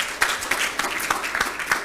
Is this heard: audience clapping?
yes